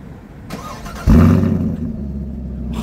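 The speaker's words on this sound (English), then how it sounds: "The dual mode exhaust is nice because it has these flaps inside that you can adjust the sound of the car." A 2024 Chevy Camaro LT1 RS coupe with dual-mode exhaust cranks and fires at about one second into a loud, sudden roar, then settles into a deep, rumbling idle up close.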